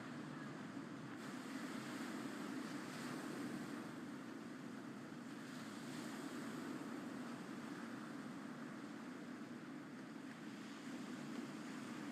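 Waves on a beach at a campground, a steady broadband wash of surf rolling continuously without a break, with faint wind mixed in and no voices.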